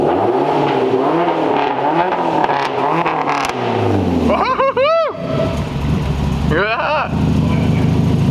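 A Subaru Legacy GT with a custom STI exhaust, already warmed up, idles with a rough burble. Then come two sharp revs, one quick pair of blips and a shorter second burst, with people talking nearby.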